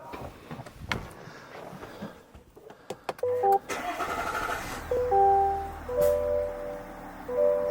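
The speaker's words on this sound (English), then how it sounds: "we need to let the engine run another 15 minutes for the engine flush to do its work" A 2024 GMC Yukon at about 110,000 miles starts up and then idles with a low, steady hum while a Liqui Moly engine flush runs through it, with clicks and some talk heard early on.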